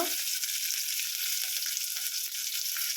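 Curry leaves, garlic, green chillies, pepper and cumin frying in hot oil for a tempering, giving a steady, dense sizzle that holds loud and even throughout with no voices.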